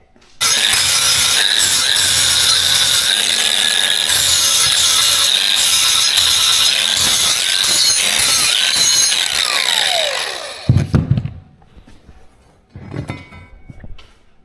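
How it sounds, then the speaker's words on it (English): A power buffer works the square corners of a horse trailer pad, a loud continuous whine with rubbing grind that stops after about ten seconds, followed by brief handling clatter. "We got to go in here and find a buffer and get these things cleaned up"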